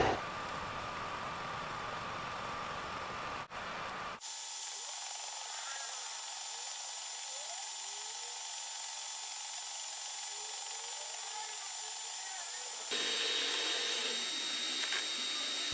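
Hitachi milling machine cutting a 45-degree tooth on a bevel gear blank, giving a steady high whine and hum that shifts tone midway and grows louder near the end, close and without talk.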